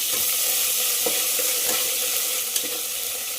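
Ginger garlic paste hits hot oil in a pan after the onions have browned and sizzles loudly and steadily, a dense hiss with faint stirring clicks, close by.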